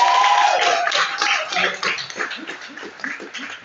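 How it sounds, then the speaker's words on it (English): Audience applause at the close of an evening show, with dense clapping filling the room at first and then thinning into scattered claps, steady and fairly loud throughout. "Massive all round of applause for the evening."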